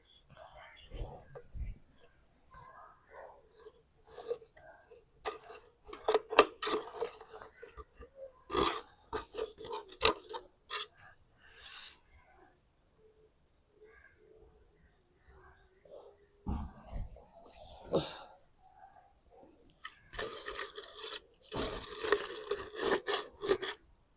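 Coconut coir being pushed and packed by hand into the hole of a hanging pot, with soft scratchy rustling and rubbing in bursts. The sounds are close, come in uneven clusters and stop between them.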